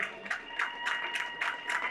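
A small audience at an official welcoming ceremony at a ministry claps for a minister, a short bout of fairly rhythmic claps at moderate distance over a steady hum.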